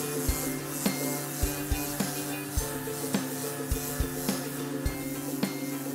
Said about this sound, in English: I would remove this 80 grit and stick on a piece of 50 grit and see what that does